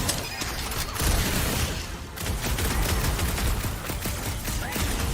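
Rapid gunfire and explosive bursts from a Guardians of the Galaxy video game battle, loud and dense throughout, with a brief lull near the middle before the shooting resumes.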